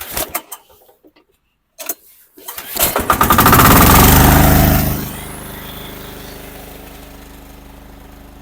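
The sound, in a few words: Husqvarna TF545DE diesel walk-behind tractor engine starting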